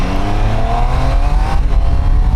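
Triumph Tiger Sport 800 motorcycle accelerating in sport mode, its engine note rising loud and close in a steady climbing whine before easing slightly.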